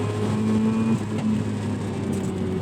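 A 1990 Mazda RX-7 FC with a rotary engine drives on winding canyon roads, its engine a loud, steady drone with a slight dip in pitch partway through, heard alone without talk.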